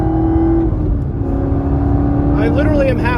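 A 2019 Lamborghini Huracan Performante accelerates at half throttle on a wet road, its engine a loud steady drone with a tone that rises near the end, heard under continuous talking.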